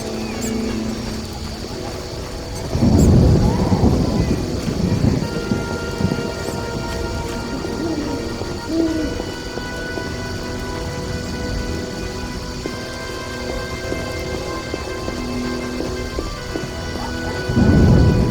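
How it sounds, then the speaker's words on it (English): Rain pours steadily in The Witcher video game, Enhanced Edition Director's Cut, with deep thunder rumbling in near the start and again at the end over the constant downpour. "It rains and it pours."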